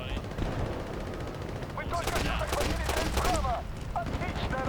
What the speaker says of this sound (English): I'm just kind of tossing out grenade, whatever these are, these little explosive rounds. It looks like kind of like a grenade launcher